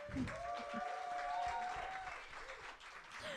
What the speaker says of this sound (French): On peut applaudir Julie quand même.